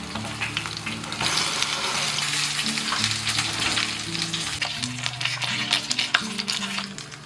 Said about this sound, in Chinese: 直接摆在这个平底锅里面，稍微压一压，保持小火一点煎。